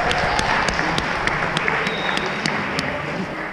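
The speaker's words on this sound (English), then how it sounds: "Round of applause for these guys," Applause from a gathered audience, sustained and even throughout, a broad crowd of clapping hands with a few individual claps popping out near the front.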